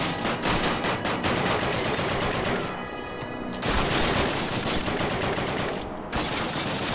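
Dense, continuous rapid gunfire in Call of Duty, loud and sustained with brief dips between bursts, heard alone without voices.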